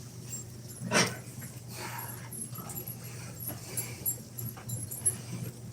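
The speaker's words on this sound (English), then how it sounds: "Now I'm going to have the dogs all over my location." Several dogs crowd around a person offering food, with a sharp yelp or whimper near the start and scattered soft whines, pants and shuffling through the rest, close by and fairly quiet.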